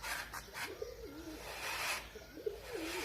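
Pigeons coo on a shop rooftop in Punjab, with two soft, warbling coo phrases, one near the start and one near the end, over quiet outdoor background.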